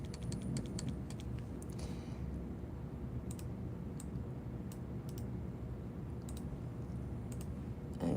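Typing on a computer keyboard, a steady run of light clicks spread over several seconds, fairly faint and close, with no voices.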